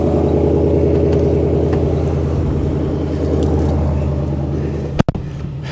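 A 2020 Shelby GT500 in Grabber Lime idles close by with a deep, steady, pulsing burble, then a sharp thud or knock breaks in near the end.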